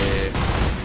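Gunfire in the video game Gears of War, a short sharp burst of rapid shots loud in the foreground with a brief break partway through.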